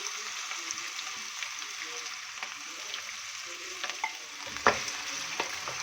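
Coarsely pounded spice paste fries with beef in a pot, giving a steady sizzle and occasional stirring scrapes.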